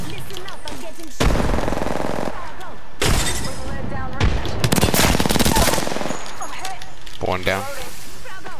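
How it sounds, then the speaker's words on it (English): Gunfire in Apex Legends, bursts of rapid automatic fire broken by short pauses, loud and close. Several separate volleys cut in and out, with faint speech between them. "Listen up, I'm getting shot."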